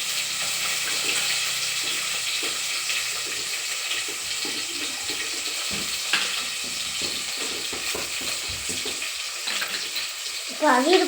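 Onions and green chillies frying in a pan for chicken biryani, a steady close sizzle throughout with occasional stirring clatter and a brief voice near the end.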